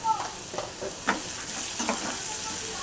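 Onion and tomato masala for a prawn curry frying in a pan, a close steady sizzle broken by a few scraping stirs of a spoon.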